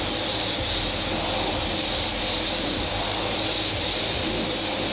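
Refilo Classic clear coat sprayed from a spray gun in a full coat, giving a steady, loud airy hiss that runs continuously with only brief dips between passes.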